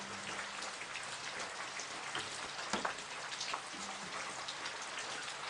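Steady rain patters down close by during a morning safari drive at Djuma Game Reserve, a dense, even hiss with scattered heavier drops.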